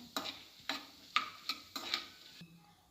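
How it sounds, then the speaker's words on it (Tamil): Chivda snack ingredients frying in hot oil, with five or six sharp scraping and stirring strokes at a steady rhythm over a soft sizzle, close and fairly quiet. "இப்போ இது நல்லா கொஞ்சம் எண்ணெயில் இது வறுபட்டுருச்சு."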